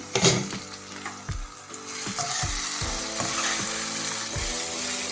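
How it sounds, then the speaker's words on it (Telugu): Okra frying in a pan: a loud, close sizzle builds after a sharp opening clatter, with a spatula knocking and scraping the pan at regular intervals. "ఇప్పుడు చూద్దాం ఎంతవరకు వేగాయో"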